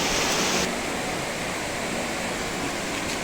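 Rushing river water close by, a loud, steady broadband wash with no pauses or voices.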